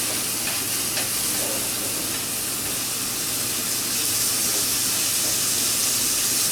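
Cut-up pieces of cheap top round steak frying on a Primus Firehole 100 camping stove: a steady, close sizzle and hiss that continues without a break, with no talking.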